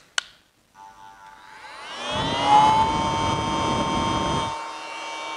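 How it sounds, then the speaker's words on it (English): A click, then a portable USB mini vacuum cleaner's small motor spins up into a steady high whine with a rushing airflow roar, running loud and close before easing off. "So now let's hear the sound of this vacuum cleaner."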